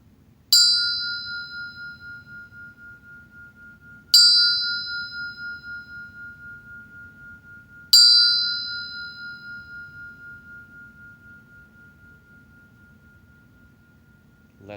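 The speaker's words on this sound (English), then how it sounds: "So with that, I'll sound the bell." A meditation bell is struck three times at slow, even intervals. Each clear, bright ring hangs and fades over several seconds in a quiet room.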